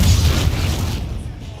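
The Descendo spell landing in Hogwarts Legacy: a heavy, booming impact with a deep rumble that decays over about a second and a half, with game speech mixed in.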